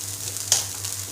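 Rice tipped into a pan of sautéing carrots and mixed vegetables for a home-style pulao, a short soft sizzle with a quick bright scrape or clatter partway through, nearby and without speech.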